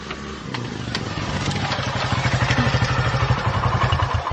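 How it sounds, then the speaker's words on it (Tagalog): A motorcycle engine runs close by, thumping in a fast, even rhythm that grows louder and steadier as the bike pulls up and idles, with faint clatter at the start. "May motor nga may hunong."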